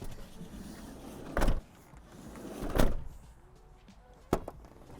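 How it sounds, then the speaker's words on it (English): Three sharp thuds of a Mercedes Sprinter van's sliding door, fitted with a bug screen, being moved and shut, spaced a second or so apart, close by in a quiet space. "So now we just want to make sure that the door does close."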